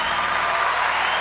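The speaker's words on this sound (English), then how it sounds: "Let's give German Home Solutions a round of applause." A studio audience breaks into steady, dense applause for German Home Solutions, the clapping loud and continuous throughout with no voices over it.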